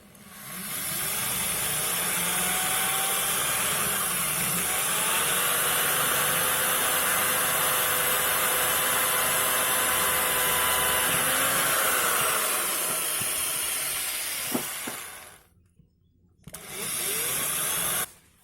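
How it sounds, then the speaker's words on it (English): An electric drill whines continuously for a long stretch, steady and close, drilling a small hole in wood, then cuts out briefly before spinning up again near the end. "I'm going to drill a little hole"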